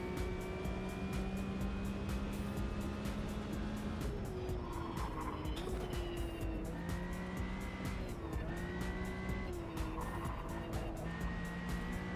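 A car driven at speed in a racing video game, its engine droning steadily throughout with pitch rising and dipping through gear changes and corners, alone without talk.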